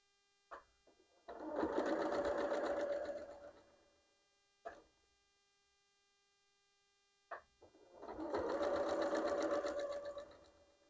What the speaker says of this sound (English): So back to the sewing machine we go.